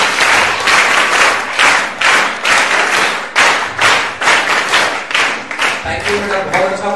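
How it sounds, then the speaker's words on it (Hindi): A large audience at a student skills seminar claps loudly and continuously, with dense, full applause that swells in repeated waves before fading into a few scattered claps and voices. "तालियां बजाओ जरा जोरदार।"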